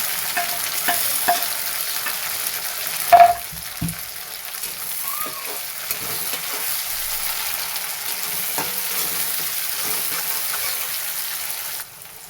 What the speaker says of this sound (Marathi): चांगलं कांदा परतून झाला आपण टोमॅटो टाकून घेऊया बारीक कट केला